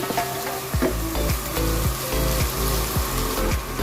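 Thinly sliced onions frying in a pan while being stirred, a constant close sizzle broken by regular scraping strokes of a spoon, alone with no talking.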